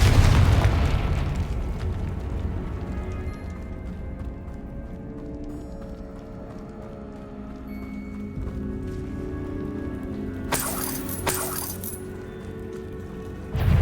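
Confringo spell explosions in the Hogwarts Legacy video game, a booming blast at the start fading into rumbling echoes, followed by a sharp crackling burst later.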